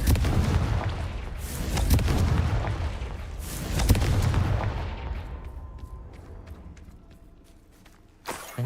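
A fiery Confringo spell blast from a Harry Potter-style video game erupts in a series of loud, booming explosions with crackling debris, gradually fading into scattered pops and a final sharp burst.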